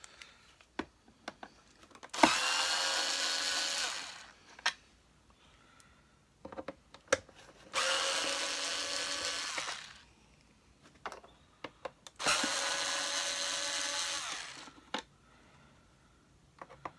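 Screws come out of a Panasonic MC-E44 700 W vacuum cleaner as three separate whirring bursts of about two seconds each from a powered driver, faint, with small clicks and taps in the pauses.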